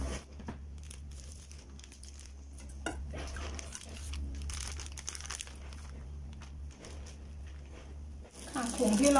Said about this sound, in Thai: ถุงที่เราใช้ก็จะใช้อยู่ประมาณขนาดอยู่ที่4คูณ6นะคะ